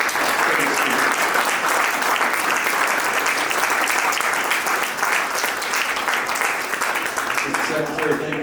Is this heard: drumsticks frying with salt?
no